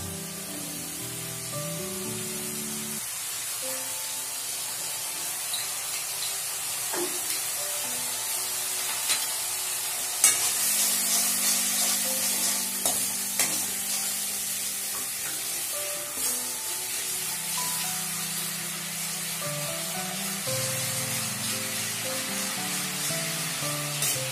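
Sour yogurt poured into a pan of curry leaves frying in hot oil for kadhi, giving a loud steady sizzle with bursts of spattering and stirring that carries on alone throughout.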